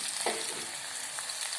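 Ivy gourd frying with sliced onion and curry leaves in hot oil, a steady close crackling sizzle with a brief stirring scrape early on, no voices.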